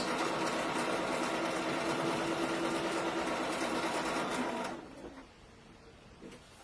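A sewing machine runs at a fast steady stitch while ruching and pleating fabric with a Figo attachment, loud and continuous for about five seconds before stopping abruptly, leaving only faint handling noises.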